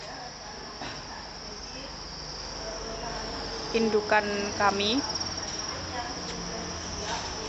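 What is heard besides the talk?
crickets chirping at a cricket farm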